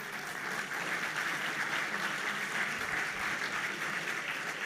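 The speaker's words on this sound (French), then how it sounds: "vous pouvez l'applaudir 10 secondes" Sustained applause from a large audience at a Socialist Party congress, a dense, even wash of clapping hands held at steady loudness for several seconds with no speech.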